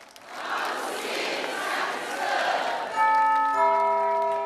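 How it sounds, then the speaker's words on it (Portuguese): A church bell rung by the sacristan during a Catholic sermon, its steady tone entering loud and clear partway through, layered over crowd murmur and a sustained chord. "Toca o sino, sacristão"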